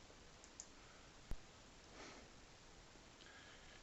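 A computer mouse gives a single sharp, quiet click amid faint room hiss, with a softer tap just before it.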